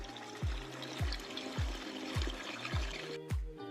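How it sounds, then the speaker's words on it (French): Water from a small stream tumbles steadily through a quiet park, with soft, regular low thuds about twice a second beneath the trickle. "Je m'amuse à suivre un petit cours d'eau qui dégringole tout le long du parc."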